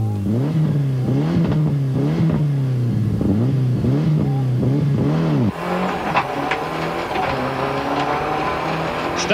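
A rally car engine revs hard and rises repeatedly through gear changes on the Rally of Otago stage, loud and close, then a more distant rough engine roar follows with brief tire noise.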